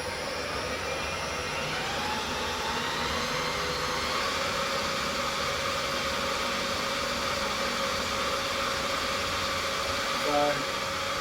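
A new lathe turning at a slow 100 RPM gives a steady, even mechanical whir with a faint hum that stays constant throughout.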